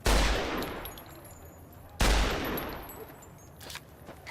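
Two loud, sharp gunshots about two seconds apart in Fallout New Vegas, fired at a rat, each with a decaying echo tail, followed by faint rustling.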